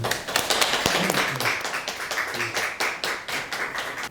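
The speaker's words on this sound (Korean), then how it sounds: "박수로 모시겠습니다." Members at a general assembly clap to welcome the newly appointed chairman of the Chungnam Venture Association, a lively burst of applause that holds steady and slowly thins out.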